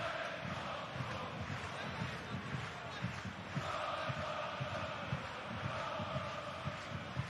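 A home crowd at a Braunschweig versus Hamburg second-division football match keeps up a steady, distant roar of chanting and cheering that fills the whole stadium without letup.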